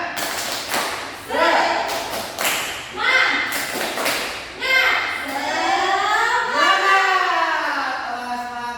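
A school class performs a rhythmic spirit clap, sharp clustered hand claps and thumps in short patterned bursts, mixed with the group's chanting voices that stretch out toward the end.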